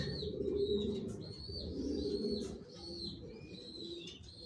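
Black racing pigeon of the Johnson line sitting on eggs, cooing in low, soft, rolling murmurs close by, with faint chirps of other birds in the background.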